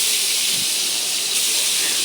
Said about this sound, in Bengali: মাছ ভাজা স্টার্ট হয়ে গেছে।